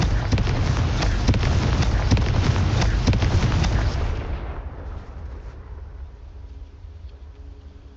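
A Confringo explosive spell in Hogwarts Legacy: a loud, sustained blast with rumbling low-end and crackling bursts for about four seconds, then decaying into a fainter roaring tail.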